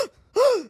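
A voice imitating a gasp, one short sharp intake of breath followed by a drawn-out rising and falling gasp, loud and close.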